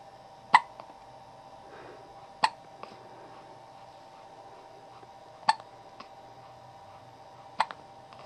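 A baby hiccups four times at irregular intervals, each a short sharp catch close to the microphone over a quiet room with a faint steady hum.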